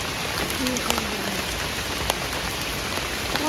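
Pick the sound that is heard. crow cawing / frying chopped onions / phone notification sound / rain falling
rain falling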